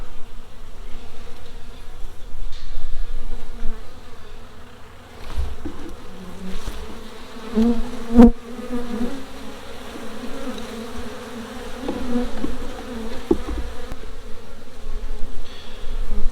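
Honey bees buzz around a hive box, a dense, continuous droning swarm close by that swells and fades slightly throughout, with no voices.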